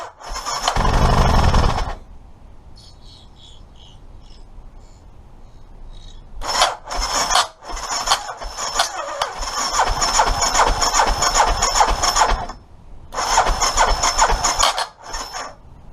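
An Aprilia Pegaso 650 motorcycle engine that had a no-start fault cranks briefly, then catches and runs. Its rough mid-pitched idle rises and falls with several blips and short pauses, loud and close.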